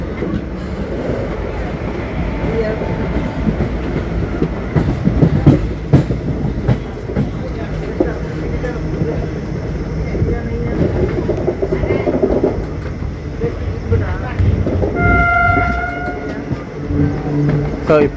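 The Charlapalli–Tirupati special train rolls into Tadipatri station with a loud, continuous rumble and wheel clatter close at hand, and sustained metallic squealing tones appear near the end.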